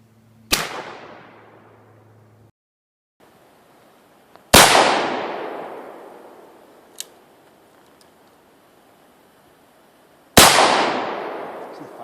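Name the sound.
Remington Model 1858 black powder revolver firing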